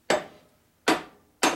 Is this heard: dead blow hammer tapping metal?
yes